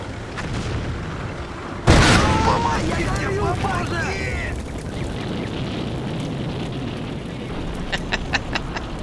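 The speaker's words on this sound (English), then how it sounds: "Some of our rounds from the 155, 150 are landing back here." Distant 155 mm artillery rounds from the Combat Mission war game land with a sudden heavy boom, then a long rumbling decay, followed later by a few faint crackling impacts.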